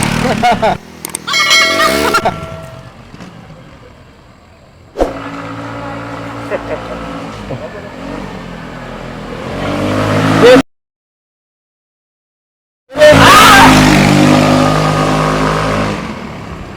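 A Rusi RFI 175 fuel-injected motorcycle from 2021 revs and accelerates on a test ride, its mid-pitched engine droning loud and close with wind noise, interrupted by a brief gap, while a rider talks over it.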